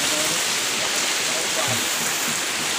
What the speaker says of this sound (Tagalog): Sobrang lakas ng ulan mga kabansa.